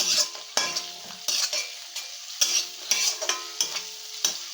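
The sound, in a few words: chopped tomato and chilli being stirred and sautéed in a pan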